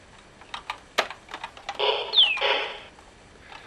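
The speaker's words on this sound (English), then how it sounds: "Having my fingers very uncomfortably on the keyboard." A BBC Micro computer keyboard is tapped during a game, a quick run of light, close key clicks followed by a brief burst of electronic game sound.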